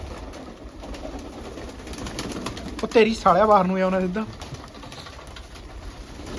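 Pigeons coo softly in the background while a man calls loudly nearby, coaxing the pigeons in.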